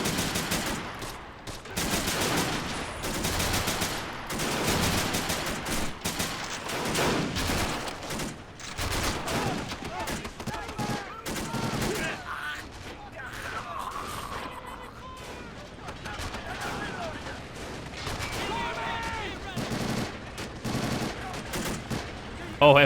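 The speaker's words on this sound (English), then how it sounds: "Type 100 SMG though, putting down a lot of suppressing fire on those Marines moving up." Type 100 submachine gun fire in a Pacific war video game battle on Tarawa atoll, loud rapid bursts of automatic gunfire repeating almost without pause, layered with other distant shots and battle noise.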